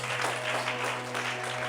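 A church congregation claps and cheers in praise of Jesus Christ, a dense, steady wash of applause lasting briefly under a sustained musical tone.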